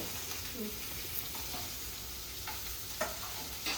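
Fried rice with egg fries in a pan at home, a quiet, steady sizzle running throughout with a few light clicks and scrapes of stirring.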